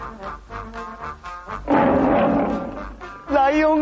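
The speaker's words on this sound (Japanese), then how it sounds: "ライオンがいます。" A lion lets out one loud, rough roar lasting over a second, set against soft background music.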